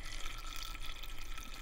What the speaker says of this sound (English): so I add some filtered water